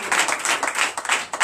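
A church congregation at a Sunday worship service in Benin claps loudly, a dense burst of hand claps pulsing in quick waves, close and full with no talk over it.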